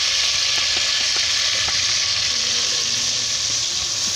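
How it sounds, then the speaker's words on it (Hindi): Ground onions fry in oil in a pot for fish curry, giving a loud, continuous close-up sizzle with faint occasional stirring clicks and no voices. "प्याज हमारा हो गया फ्राई।"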